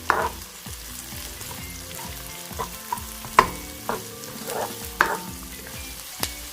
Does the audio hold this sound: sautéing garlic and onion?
yes